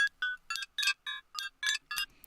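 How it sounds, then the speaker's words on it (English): Glass chimes noise from the Texture audio plugin forms a quick run of bright, tinkling clinks in short bursts, nine or so glassy hits in a steady stuttering pattern. "One of my favorites is the glass chimes"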